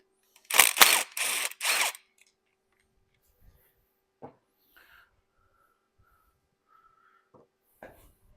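A 10mm bolt and plastic lifter retainer being removed on a 6.0 Powerstroke diesel engine: three quick bursts of ratcheting wrench clicks, then sparse faint clinks and small metallic handling noises in a quiet shop.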